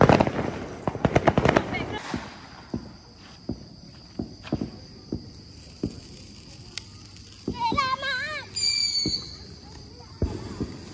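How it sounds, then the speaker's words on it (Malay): Firework rockets and crackers during a Raya 2025 celebration pop in a rapid loud burst, followed by scattered sharp bangs, some whistling rockets and a crackling shower near the end, with voices faintly in the background. "mercun roket and maybe satu bunga api besar"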